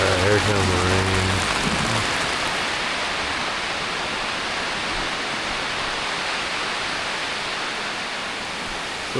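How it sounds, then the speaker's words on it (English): Rain on a tarped house roof during a storm, a dense steady hiss that holds evenly throughout, close and loud, after a brief low hum at the start. "Here comes the rain."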